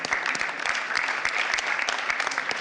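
Audience applause at a town's New Year greetings ceremony for a municipal councillor, steady dense clapping from a crowd filling the room, with no speech over it.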